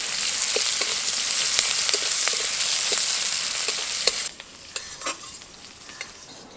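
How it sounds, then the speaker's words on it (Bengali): Chopped onion with five-spice fries until brown in a pan, giving a loud, close sizzle broken by clicks of a spoon stirring, which drops suddenly to a quieter frying hiss near the end, with no talking. "পেঁয়াজটাকে এখন বাদামি করে ভেজে নেব"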